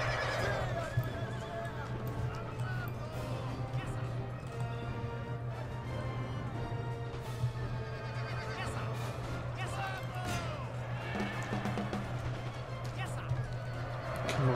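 Horses whinny and hooves clatter across a battlefield in the strategy game Napoleon: Total War, steady dense cavalry noise under a constant low hum, with game voices speaking over it.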